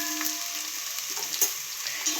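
Ginger garlic paste fries in a pan for egg fried rice, a short, steady, nearby sizzle with faint stirring ticks.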